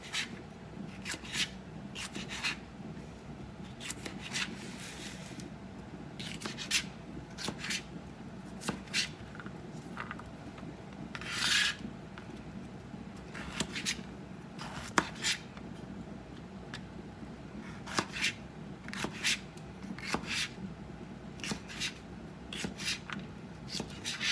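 A knife slices banana peppers into quarter-inch rounds for pickling, giving a long, irregular run of crisp cuts and taps on a board, some quick and close together, with faint rubbing between them and no talking.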